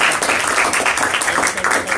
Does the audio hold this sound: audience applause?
yes